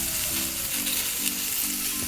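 Four cloves of garlic, about an inch and a half of ginger and mint leaves fry in a pan with a steady, loud close sizzle, a faint scrape of stirring underneath, no talking.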